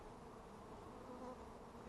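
Field bees left behind after a hive was removed from a house in Fosters, Alabama, drone in a steady, even buzz close by on a hot day.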